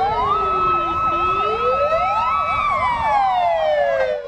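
Several emergency sirens from fire engines rushing to a blaze at a power substation near Kemin, Kyrgyzstan, overlap loudly. Wailing and yelping patterns rise and fall continuously, close by, with no talk.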